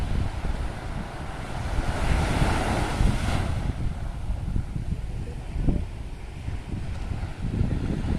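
Sea waves wash in at Ya Nui Beach, Phuket, a continuous rushing surf heavily mixed with loud wind buffeting the microphone, with no voices.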